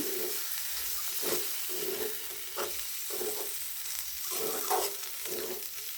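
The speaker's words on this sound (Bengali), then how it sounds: "শিমের বিচি দিয়েছি, এখন আমি নেড়ে দেব সামান্য।" Bean seeds fry with spices in a pan, a steady close sizzle broken by repeated scraping strokes of a spoon stirring them every second or so.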